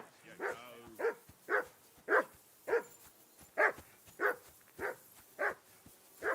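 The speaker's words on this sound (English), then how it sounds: "I assume you can hear that damn dog of yours barking." A dog barks in the video game Kingdom Come: Deliverance 2, about eleven evenly spaced barks at a steady rhythm, moderately distant and alone.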